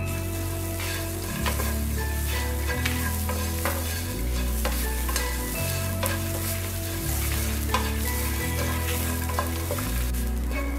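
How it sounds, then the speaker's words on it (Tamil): Masala with grated coconut stir-fried in a pan for a cluster bean poriyal, a steady scraping sizzle running continuously under a loud background music bed. "தேங்காயை சேர்த்ததுக்கு அப்புறம் 2 நிமிஷம் வறுபட்டா போதும்."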